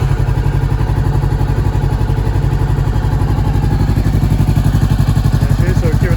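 Honda CBR500R motorcycle fitted with a Termignoni exhaust, idling with a loud, steady, rapid low pulsing throb close to the microphone.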